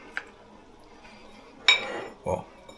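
An egg cracked into a pan of kimchi and smoked brisket fried rice, giving a faint tap followed by a brief wet splat and a short sizzle, close and quiet, with no talking.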